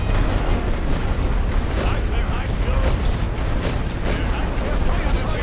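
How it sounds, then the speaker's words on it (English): Heavy siege artillery fire in the First World War video game Great War Western Front, a dense continuous rumble of booms and bursts that stays loud throughout with no gaps. "That is heavy siege artillery."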